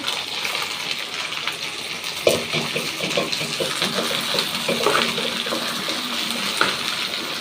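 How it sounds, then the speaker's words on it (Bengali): Okra added to frying onions in a pan sizzles in a steady close hiss, with a sharp burst as the okra goes in and small pops and clatters afterward. "আমি পেঁয়াজটা দিয়ে দিয়েছি এখন দিয়ে দিব ঢেঁড়সটা"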